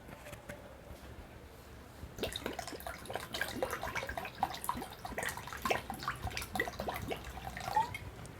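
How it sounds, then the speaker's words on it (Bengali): Cold water from a clay pot poured into a drink, silence at first, then a continuous splashing, trickling pour with bright drips for the rest of the stretch, fairly close. "এই ঠান্ডা জলটাই আমি মেশাবো"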